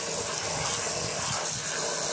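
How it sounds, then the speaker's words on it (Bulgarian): Water gushes steadily from a tap into a container being topped up for fermenting in a garden, a continuous loud rushing stream with no pauses. "И сега ще допълня с вода и ще го оставя да се ферментира."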